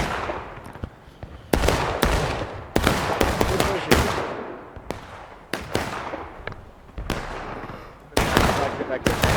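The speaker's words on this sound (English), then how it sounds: "And they just got wrecked by artillery." Artillery and gunfire in the Civil War game War of Rights: repeated loud, sharp booming blasts with rumbling decay, arriving in irregular bursts through the scene.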